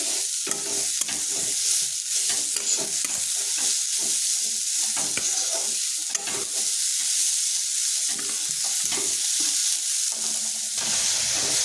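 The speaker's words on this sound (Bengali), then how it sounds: "এরপর নারকেল আর চিনি ভালোভাবে মিশিয়ে নিচ্ছি।" Grated coconut and sugar for mukhshola pitha are stirred together in a pan, making a dense, continuous scraping and rustling that goes on briskly and closely with a faint hiss underneath.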